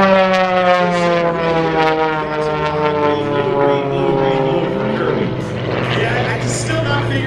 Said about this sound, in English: He comes in and he will ring out this Edge 540 for us.